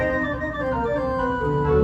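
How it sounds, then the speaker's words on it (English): A small tracker pipe organ plays with full swell, a dense sustained chord of many pipe ranks that holds steady and shifts slightly, full and close with no talking. "So full swell sounds like this."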